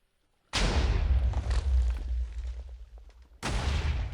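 TNT in a Minecraft-style TNT cannon goes off in two blasts: a loud, rumbling explosion that fades over about three seconds, then a second sharp boom right after.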